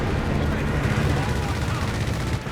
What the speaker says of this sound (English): And aircraft immediately shot down by the M16s